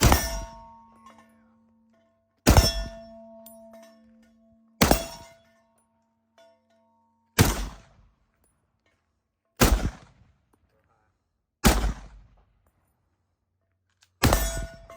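M1 Garand rifle shots ringing out one after another, seven sharp loud cracks spaced about two seconds apart, each followed by a short metallic clang of a steel target.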